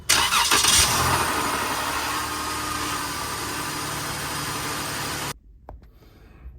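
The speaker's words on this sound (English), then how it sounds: "So here I am turning on the car." A Jeep engine cranks and catches with a loud burst, then settles into a steady idle for several seconds during a ZF 8HP transmission oil change before cutting out abruptly near the end.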